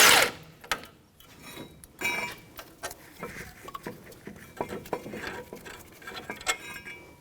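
A ratchet with an 18mm socket works loose a caliper bracket bolt on a 2007-2017 Jeep Patriot 2.4L. Sparse, irregular metallic clicks and taps come close by, with short bursts between quieter pauses.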